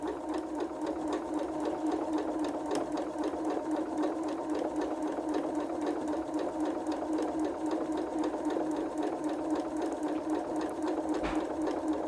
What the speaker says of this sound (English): Drop the needle, just start sewing.